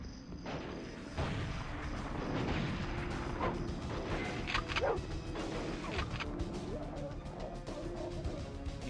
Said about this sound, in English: Hey, extreme long-distance shotgun sniping.